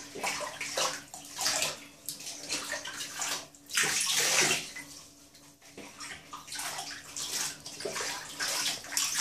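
An animal being bathed sloshes and splashes in a tub of bath water, irregular bursts of splashing and dripping rising and falling over several seconds at close range, with no speech.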